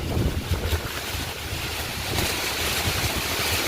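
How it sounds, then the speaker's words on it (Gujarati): Strong storm wind roars over the microphone during heavy rainfall in Gujarat, with a steady, heavy wash of rain-like noise filling the whole stretch. "તો વરસાદ ને પવન ને કેટલો વરસાદ"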